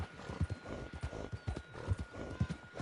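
Horse hooves in Red Dead Online clip-clop in a steady, close walking rhythm, each thud distinct and evenly spaced.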